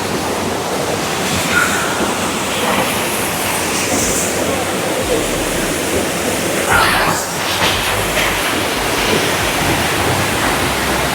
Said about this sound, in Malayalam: ഇതാണ് ആ വെള്ളച്ചാട്ടത്തിൻ്റെ മുകൾ ഭാഗം